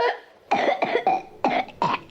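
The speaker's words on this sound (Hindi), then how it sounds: "नंबर 3 पर आती है वोपिंग कफ यानी काली खांसी।" A series of five harsh, barking whooping-cough coughs in quick succession, close and fairly loud, coming in uneven bursts with short gaps between them.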